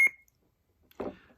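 A Nano Biscotti V4 sound board in a kids' lightsaber with a Darkside hilt gives a short, sharp single electronic beep, followed after a pause by a brief muffled rustle or handling noise.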